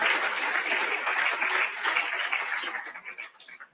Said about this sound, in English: So let's give Dr. Sharon a round of applause.